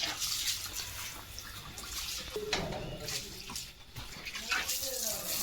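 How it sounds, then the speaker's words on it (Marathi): Water sprays from a garden pipe on a farm, a steady hiss and splash close by, with people talking over it. "झाडात सोडलंय ना पाणी"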